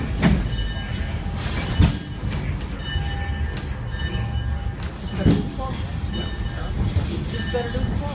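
Train car wheels grind and squeal through a tight curve of switch track at a roundhouse, with a steady metallic rumble, high-pitched screeches rising over the train noise while voices talk faintly in the background.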